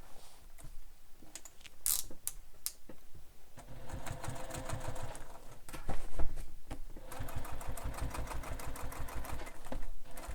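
A sewing machine top stitching a large beach bag, a steady close mechanical whirring run with rapid needle clatter, brief pauses and starts early on, then continuous stitching.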